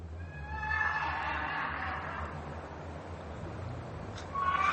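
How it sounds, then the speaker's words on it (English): Wounded horses scream and whinny on a World War I battlefield, high shrill cries rising over a low rumbling background, with another cry breaking in near the end. "Horses. Wounded horses."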